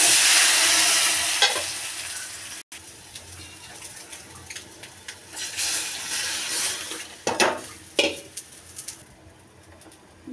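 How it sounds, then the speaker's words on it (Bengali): Onion and garlic fry for a dal tempering, a steady sizzle that swells and fades as the pan is stirred, with a few louder scraping bursts near the end. "ডাল বাগার দেব, পেঁয়াজ রসুন ভেজে নেব"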